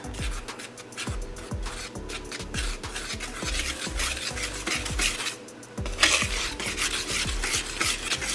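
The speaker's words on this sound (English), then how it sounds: "I'm just gonna quickly whisk this together and set it aside." A whisk scrapes quickly and rhythmically against a bowl while dry baking powder, baking soda and salt are mixed for cake batter, a steady close-up rasping with regular strokes.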